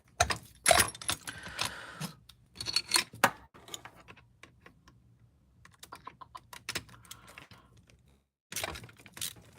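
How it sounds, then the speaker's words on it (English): Knives and multitools clink and rattle in bins as a hand reaches in and sorts through them, with a dense bright metallic jangle in bursts, short pauses between, and a final loud burst; no talking. "Reaching into bins full of knives."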